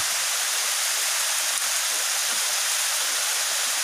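Tobo Tobo mini waterfall in Barangay Altavista, Matalom, Leyte, Philippines: a loud, dense, unbroken rush of falling water close by, steady throughout with no voices.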